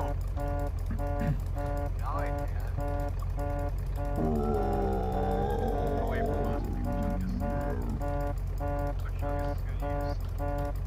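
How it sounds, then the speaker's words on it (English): A car horn honks in the survival video game Unturned, a steady electronic tone pulsing in repeated blasts over a constant engine drone, with a brief change in the middle and some faint talk. "Can you hear me honking?"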